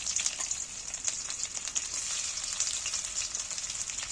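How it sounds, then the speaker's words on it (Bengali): Chopped onions fry lightly in hot oil for a masoor dal dish, giving a close, steady bright sizzle with small crackles throughout and no talking. "পেঁয়াজগুলো তেলের মধ্যে যে তুলে দিয়েছি, এবার আমি হালকা করে, খুব কড়া করে ভাজবো না, হালকা করে একটু ভেজে নেব"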